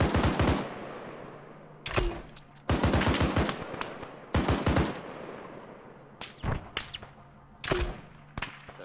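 Heavy machine gun fire in a military shooter game set in an Operation Inherent Resolve mission: several loud bursts of rapid shots separated by pauses, each with a ringing tail.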